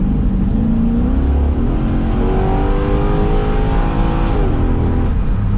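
A C6 Corvette spins its tires under hard throttle, the engine roaring loud and close with rising revs over a constant rushing, tire-squealing din that never lets up.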